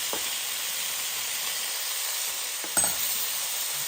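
Garlic frying in oil in a pan, a bright, constant hiss of sizzling close by, with a couple of brief clanks midway and no talk.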